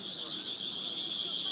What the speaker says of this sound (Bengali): এই পোকাগুলো মানুষ কিনে নিয়ে যায় এই যে ঝিঝি পোকার ডাক শোনার জন্য।